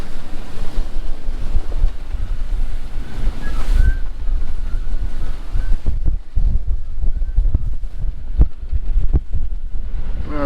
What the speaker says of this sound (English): we're going dead into almost 30 knots of wind, 27 and a half, 28 knots